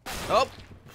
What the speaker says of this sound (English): One shot with a freaking pistol